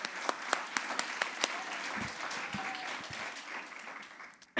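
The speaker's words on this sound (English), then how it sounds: "One more round of applause for everybody." An audience applauds at a school ceremony honoring teachers, with a few sharp individual claps at first, then a soft, steady round of clapping heard from some distance.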